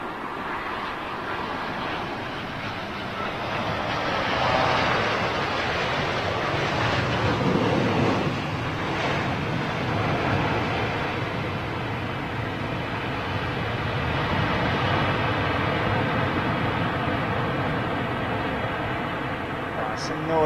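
An RJ jet airliner passes at Heathrow Airport, its broad, steady roar swelling and holding across the whole stretch, close and loud, mixed with wind buffeting on the microphone, while people talk nearby.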